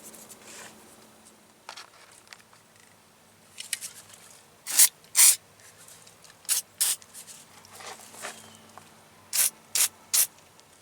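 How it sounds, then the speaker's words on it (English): Short hissing bursts of PB Blast penetrating oil sprayed onto rusted car seat nuts, arriving in pairs and threes with pauses between, close and loud against a quiet background. "I'm gonna spray some PB Blast on them before I start trying to remove them."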